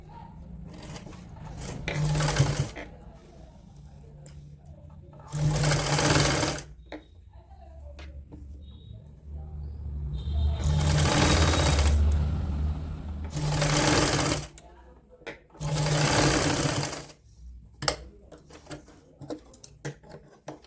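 A sewing machine stitches a sleeve onto a woolen night suit for a small child, running in several loud bursts of whirring, each a few seconds long, separated by quiet pauses and light handling noises.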